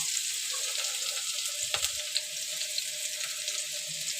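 Chopped onions sizzle steadily in hot oil as they fry toward brown, a close hiss with one dull clunk from the pan midway.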